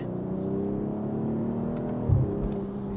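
A 2024 BMW M440i xDrive Gran Coupe engine drones steadily from inside the cabin while driving, a low hum with a brief surge of revs near the end.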